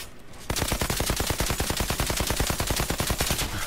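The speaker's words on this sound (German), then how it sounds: "Ich schieße." A legendary assault rifle fires in the video game Outriders, a rapid burst of automatic shots in an even, fast rhythm, loud and close, starting abruptly and continuing to the end.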